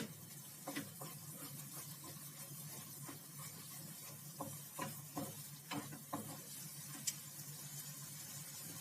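Khoya (dried milk solids) roasts in a pan with a faint low sizzle while a spoon stirs and scrapes in quiet irregular strokes, no talk.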